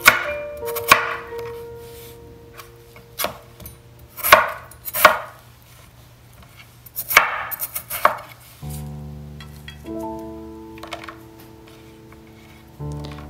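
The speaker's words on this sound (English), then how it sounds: "You want to cut them into large pieces." Sharp knife chopping potatoes into large pieces on a cutting board, a string of close, loud, irregular thuds, with musical background tones later on.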